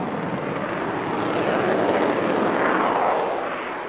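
A single-seat interceptor jet roars past at the Farnborough airshow, a loud, broad engine rush that swells and slowly fades over a few seconds.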